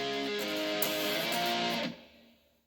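Electric guitar power chords from the intro of a song, one chord rung out then choked, fading over about two seconds, fairly quiet and alone.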